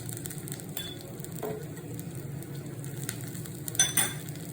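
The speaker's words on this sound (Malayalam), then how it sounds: "കുറച്ച് നെയ്യ് ഒഴിച്ചു കൊടുക്കാം" Ghee is poured over a home-made paneer masala dosa cooking on a pan. A low, steady sizzle runs underneath, broken by light clinks of a utensil and a sharper burst of crackling near the end, with no talking.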